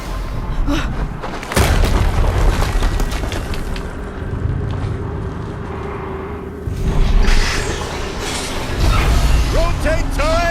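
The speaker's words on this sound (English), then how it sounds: "Another explosion." Explosions in Horizon Zero Dawn Remastered: heavy booms and low rumbling amid continuous combat noise, with swells of blast energy early on and again later, fairly loud and close.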